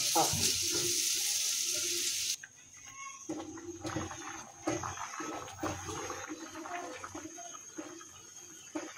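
Chasi pitha fries in a pan with a loud, hissing sizzle for about two seconds. The sizzle then drops to a softer bubbling, broken by clinks and faint background voices.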